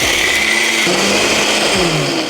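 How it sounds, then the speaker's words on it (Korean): A Ninja all-in-one blender crushing a heap of ice with a splash of cider into slush, a loud steady motor whine with shifting pitch as the ice breaks up, close and alone. "여기에 이제 스무디가 잘 되게 사이다 소량 넣어준 다음에 돌려서 꽂고 돌려줄게요 블렌더"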